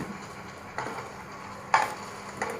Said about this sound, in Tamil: எல்லாத்தையும் சேர்த்து கிளறி விடுங்க.